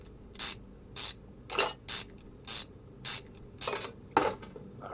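Metal rod caps coming off an engine block during crankshaft removal in the Car Mechanic Simulator 2021 game, heard as eight evenly spaced, sharp ratcheting clicks and clanks, each short burst standing alone over a quiet background.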